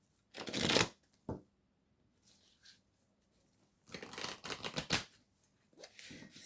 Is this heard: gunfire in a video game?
no